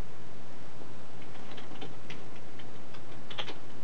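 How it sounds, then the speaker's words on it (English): Loud plastic button clicks from a cheap Ultra 8-Bit 84-in-1 game controller while initials are entered, a sparse run of close, crisp taps over a faint steady hum. "as you may notice, the controller's pretty loud"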